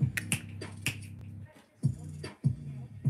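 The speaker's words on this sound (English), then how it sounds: "Posh clap." Finger snapping used as a quiet clap: a few sharp, close snaps in a loose rhythm, clustered early then spaced out, faint and dry with no voices.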